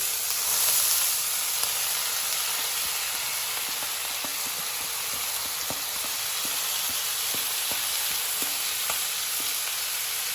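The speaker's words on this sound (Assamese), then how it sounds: "এইখিনি আমি এতিয়া অলপ ভালদৰে ভাজি ল'ম।" Steady sizzling and crackling of chana dal frying in a hot pan, with faint scraping stirs throughout and no talking.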